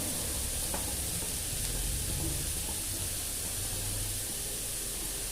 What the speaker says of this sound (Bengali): ঘিয়ের ভিতর দিয়ে বেশ নেড়ে ছেড়ে গাজরটাকেও কিন্তু ঘি দিয়ে একটু ভেজে নিতে হবে।